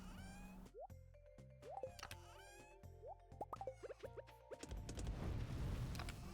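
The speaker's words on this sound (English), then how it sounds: "Water all my crops." Crops being watered in the Stardew Valley video game give a run of soft, bubbly plops and drips in quick succession over light game music, ending in a short splashy wash.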